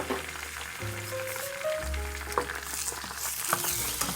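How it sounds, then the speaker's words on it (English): Eggs cook in hot sesame oil in a frying pan, sizzling softly and steadily with faint scrapes over a low background hum and some tonal interference. "Once the sesame oil has heated up, you want to go ahead and put your eggs in there to cook."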